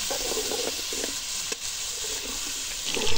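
Onions and chicken frying together in a pan, a steady close sizzle with occasional stirring scrapes and a brief clatter midway, growing slightly louder at the end.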